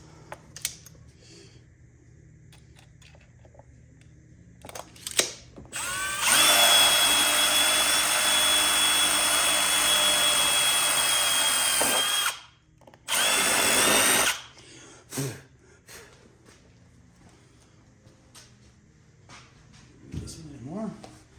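A power drill bores a roughly 1.25-inch hole in an Arctic Cat ProCross snowmobile chassis, whirring loudly for several seconds, stopping briefly, then boring again, with scattered clicks and handling noises before and after.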